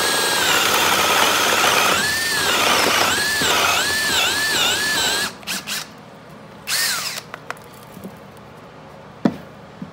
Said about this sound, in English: and then I can drill them.